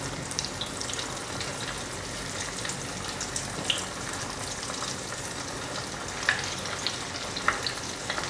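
Cut king oyster mushroom pieces deep frying in hot oil: a dense, steady sizzle and crackle throughout, close and even, with a few sharper pops scattered through it and no talking.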